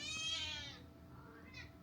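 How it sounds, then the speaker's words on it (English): A cat gives one drawn-out, fairly loud meow, then a softer short chirp-like mew close to the end, over faint room noise. "she meows at me when I'm vlogging"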